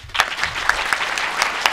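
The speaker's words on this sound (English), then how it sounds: "First, everybody clap." A BronyCon 2014 convention audience at a cosplay panel claps together for a clap-o-meter round, a dense, steady burst of many hands with a few sharper claps poking out, close and continuous throughout.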